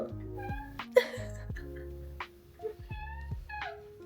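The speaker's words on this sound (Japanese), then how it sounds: "猫が来ました" A cat at home gives a few short, soft meows, fairly close and mixed with light rustling, while someone talks quietly nearby.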